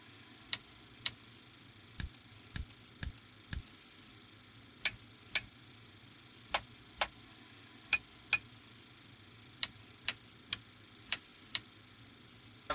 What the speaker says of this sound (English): That sound you hear in the background is our standby instrument sounds.